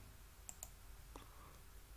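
A computer mouse right-click during Illustrator drawing work: two quiet, sharp clicks in quick succession, followed by a faint softer tap, against a low background hum with no talking.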